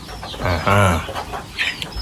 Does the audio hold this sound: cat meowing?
no